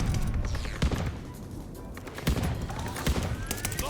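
Shotgun gunfire in the shooter game Call of Duty: Vanguard, a cluster of sharp blasts with clattering impacts and faint whizzing streaks over a busy battle background, close and punchy.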